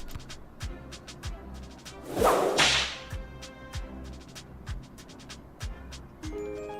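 A whip cracks in the video game Lil Guardsman, a sharp, bright swish-and-snap rising over a steady bed of plucky game music and repeated percussive ticks.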